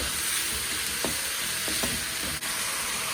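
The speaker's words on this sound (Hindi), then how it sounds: "तकरीबन 1 से 2 मिनट हमने ये चिकन को भून लिया है" Finely chopped chicken fries in a pan with a steady, close sizzle, broken by a few soft scrapes and stirring knocks, with no voices.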